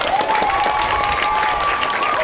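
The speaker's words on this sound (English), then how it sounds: "All right, let's give him a round of applause." Students applaud after a police dog demonstration at a school, a loud, continuous crowd clapping with a sustained whistle-like tone running through and light cheering mixed in.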